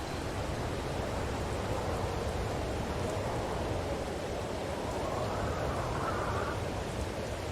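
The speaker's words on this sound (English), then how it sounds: "Hear the howling wind." Howling wind in the Farming Simulator 22 video game, a steady broadband rush mixed with rain-like hiss, constant in level with a slight rising swell in the middle, no voices.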